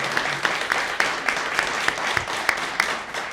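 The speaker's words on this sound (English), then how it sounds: "Give them a round of applause" Light applause from a modest audience at a Sauna NZ panel, soft crowd clapping with a few distinct sharp claps in a steady rhythm.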